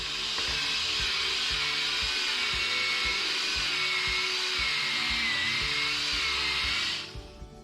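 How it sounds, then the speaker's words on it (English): A brass shifter rod for a custom Harley Sportster is polished on a spinning wheel with brown cutting soap, making a steady, close, loud whirring hiss over a low motor hum that winds down just before the end. "So we'll go ahead and give it a polish up."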